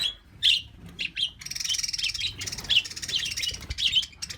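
Pet budgies chirping and squawking close up, a busy run of high tweets and chattering calls that overlap almost continuously, loud and without any talking.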